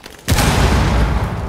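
A frag grenade detonating in Rainbow Six Siege, on the Kafe map: one sudden, loud, close boom after a brief quiet moment, followed by a heavy rumbling tail that barely fades.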